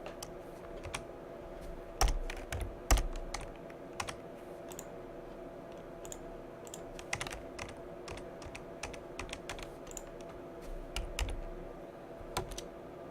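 Clicky computer keyboard typing comes in irregular bursts of keystrokes with pauses between them, close and fairly quiet, with a few louder thumps.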